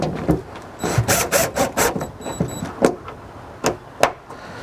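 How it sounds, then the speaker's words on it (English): Screws going back into the tailgate trim of a 2016 Subaru Forester, with a series of close, scraping and rubbing bursts, some rhythmic squeaky strokes mid-clip, and a few sharper knocks near the end. "So let's go ahead and put the screws back in."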